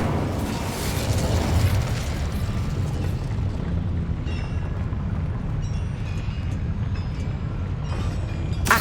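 A fire spell blast is cast in the game Hogwarts Legacy, producing a loud, dense roaring whoosh with fiery crackle and low rumble, fading slightly partway through.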